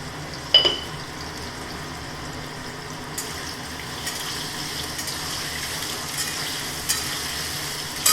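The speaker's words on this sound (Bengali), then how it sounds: "আলুটা ভাজা ভাজা হতে থাক" Cut potatoes sizzling in a pan with a little salt, a soft continuous fry close by, with a few sharp clinks of a utensil and stirring scrapes and no talking.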